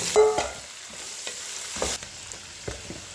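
Chickpeas frying with browned onions in a pan, a soft steady sizzle broken by several scraping stirs, close and without voices.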